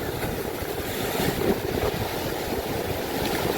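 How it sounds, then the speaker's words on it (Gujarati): Sea waves and wind on Shivrajpur beach near Dwarka: a dense, steady roar of surf and gusting wind, loud and continuous throughout, with no voices. "ફાઇનલી પહોંચી ગયા છીએ અમે બીચે એટલે કે દરિયાના કાંઠે પહોંચી ગયા છીએ"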